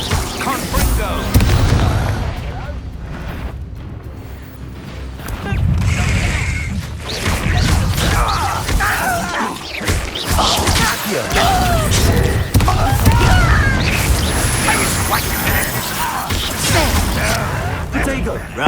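Confringo blasting spell cast in Hogwarts Legacy, booming bursts and crashing impacts amid a busy, dense mix of combat effects, thuds and rumbling that persists throughout at fairly high loudness.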